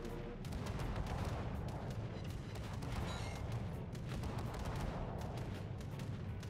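Rapid video game gunfire crackles almost nonstop, a dense, loud stream of overlapping shots with no talking over it.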